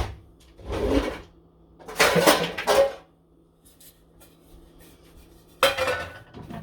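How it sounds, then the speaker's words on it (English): A metal cake pan, a 6-inch round, is lifted and set about in a kitchen, giving a few short clinks and scrapes in separate bursts with quiet pauses between. "I'm going to grab a pan to make an impression on my cake."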